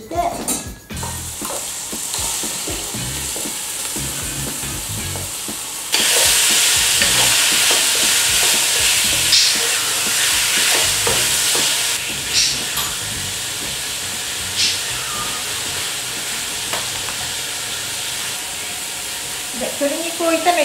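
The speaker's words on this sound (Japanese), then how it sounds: "オリーブオイルで炒めます。" Chicken sizzles and hisses steadily in hot olive oil in a frying pan, with occasional stirring and scraping sounds; the frying grows louder partway through and stays close.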